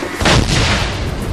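A WWII infantry mortar fires with a single loud, close blast that sounds as a sharp boom and then fades into a long rumbling tail, with no voices over it.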